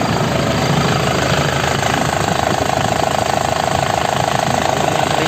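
A 2005 Isuzu Panther LS non-turbo diesel engine idling with a steady, dense, rough drone and fast knocking texture, loud and close, running alone without talk throughout.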